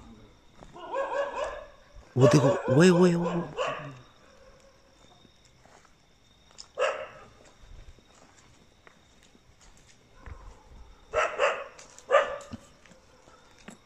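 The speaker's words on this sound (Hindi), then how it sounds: "कुत्तों के साउंड इधर से आ रहा है" Dogs bark at night in a village in short bursts, some fairly close and others more distant, with quiet stretches between and a voice speaking briefly.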